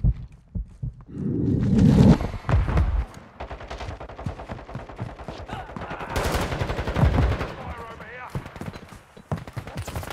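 Call of Duty Season 2 multiplayer Hardpoint match, with a dense rattle of automatic gunfire and single shots in the game, mixed with shouted voices and radio-style callouts, loud and close.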